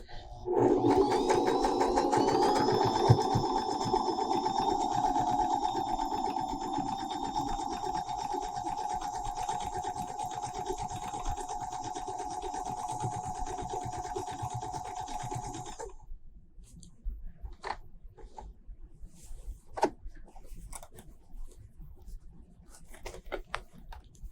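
A longarm quilting machine stitches a zigzag pattern on a quilted door hanging, giving a steady whirring hum with a high tonal whine for about sixteen seconds before stopping, followed by scattered light clicks and taps.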